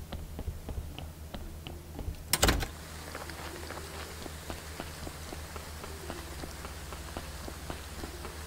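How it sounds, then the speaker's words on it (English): Soft, steady rainfall in the video game Graveyard Keeper with scattered ticking drops, interrupted once by a single loud knock partway through. "Why does it seem to always be raining on holy days?"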